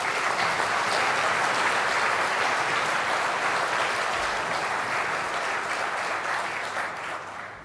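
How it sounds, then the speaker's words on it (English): Large audience at the Innovate UK Knowledge Transfer Partnership Awards 2025 gives a loud, full round of applause that holds steady and then begins to fade near the end. "I'd like you to give yourselves a massive round of applause"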